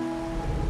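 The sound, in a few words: rain in the video game Wuthering Waves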